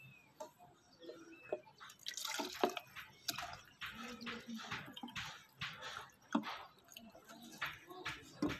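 Water runs and drips through small holes in a box that has just been filled, producing scattered close splashes and dribbles in bursts, with quiet rustling between them.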